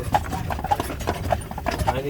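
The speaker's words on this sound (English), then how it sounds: "Much easier for the horse to pull uphill trotting than it is to walk." Hooves of a horse trotting uphill while pulling an Amish buggy in Lancaster, Pennsylvania, clip-clop in a quick, even rhythm, close and moderately loud, with faint wheel and road noise underneath.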